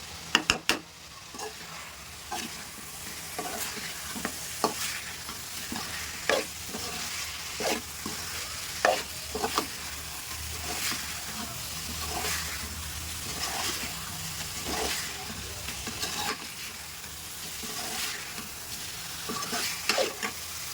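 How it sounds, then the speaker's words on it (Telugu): Chicken pieces fry and get stirred on a high flame, a steady sizzle broken by repeated sharp scraping and clinking strokes of a spatula against the pan, with no talking. "హై ఫ్లేమ్లోనే చేయాలి ఈ ఫ్రై అనేది మాత్రం. లాస్ట్ ఈ స్టేజ్లో కలుపుతూ ఉండాలి."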